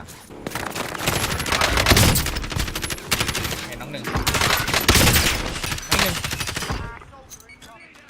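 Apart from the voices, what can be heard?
Kilo 141 assault rifle gunfire in video game Warzone Pacific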